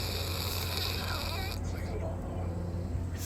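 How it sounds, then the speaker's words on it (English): Someone snoring in a neighbouring sleeping pod at a Singapore capsule hotel, a steady low rumble running through the whole stretch under a constant hum of room ventilation. "Yeah, there's someone snoring."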